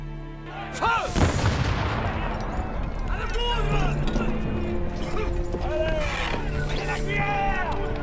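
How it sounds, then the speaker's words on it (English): British naval cannon bombarding the fortified town of Louisbourg, with heavy booms and gunfire cracking over a dense, continuous battle din and distant shouting. "The British fleet begins to bombard the town."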